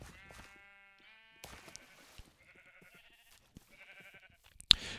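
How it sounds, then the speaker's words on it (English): Sheep in Minecraft bleating in several short wavering calls separated by pauses, close and clear over near silence, ending with a sharp click. "sheep."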